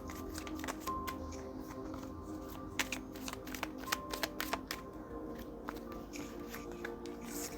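A deck of oracle cards is shuffled by hand, making a run of crisp riffling flicks and soft slaps at close range, busier in the middle, with no voices.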